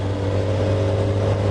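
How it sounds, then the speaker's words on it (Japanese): Kawasaki ZX-4R high-revving four-cylinder sport bike engine humming steadily while riding up a grade, a close, even drone with no change in pitch. "高回転型エンジンの音に私が慣れていないというかですね、結構回っちゃってる感じがするんだよな。"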